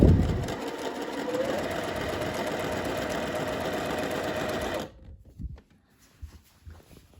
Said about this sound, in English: I roll that hem under few inches at a time, and then sew it down.